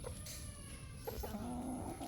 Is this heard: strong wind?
no